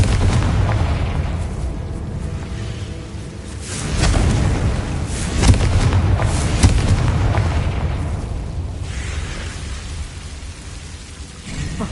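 Booming explosion effects from a Confringo spell in a Harry Potter parody, heavy rumbling blasts swelling and rolling over several seconds with a rain-like crackle, loud and close.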